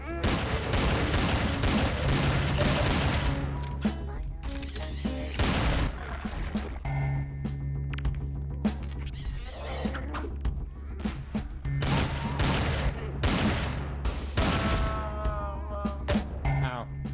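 Rapid video-game gunfire from weapons with unlimited ammo in a Map Labs level, bursts of shots and thuds repeating across the clip over background game sounds.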